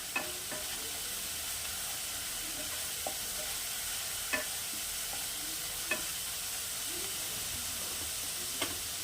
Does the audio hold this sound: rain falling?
no